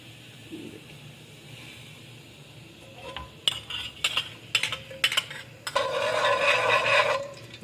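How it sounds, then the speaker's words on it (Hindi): Ghee goes into a kadai while jaggery rice is being cooked: a few sharp metallic clinks and scrapes, then a steady hissing pour lasting over a second, all at close range over quiet kitchen background. "अब इसमें घी डालेंगे।"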